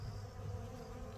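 Honey bees from a package being handled at a hive, making a dense, steady buzz close by with no pauses over the brief stretch.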